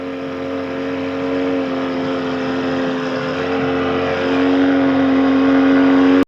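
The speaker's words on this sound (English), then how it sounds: "with the sound mixing making the engine noise loud as hell" A car engine in a film scene revs loudly and steadily, holding a sustained droning tone that swells louder toward the end before cutting off abruptly.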